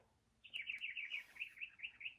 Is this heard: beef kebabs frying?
no